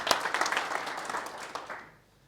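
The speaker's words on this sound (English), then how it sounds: "So please give them a round of applause for" A short burst of audience applause for conference organizers at a Xojo developer event, moderately loud clapping from a modest crowd that tapers off and dies away within about two seconds.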